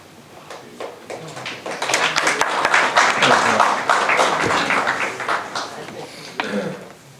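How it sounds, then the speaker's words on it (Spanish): Audience applause for a panel on the Betancourt Doctrine, rising from scattered claps into a full, dense round of clapping before tapering off, with some voices mixed in. "un aplauso para todos ellos"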